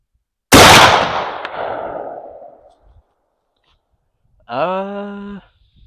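A shotgun fires a single 3-inch magnum slug at close range: one sharp, very loud blast whose report rolls away over about two seconds, followed after a pause by a short tonal voice-like sound.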